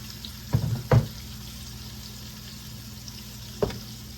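Salted and peppered food sizzling as it starts cooking in a pot, a steady soft frying hiss with a few brief stirring or clattering bursts.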